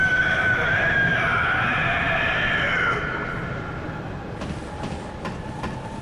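A loud, sustained shrill screech plays as a character starts climbing a ladder in the video game Bloodborne, then fades into quieter ambient game sound with a few faint clicks.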